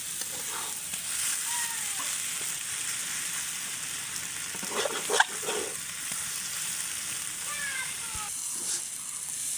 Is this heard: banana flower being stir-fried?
yes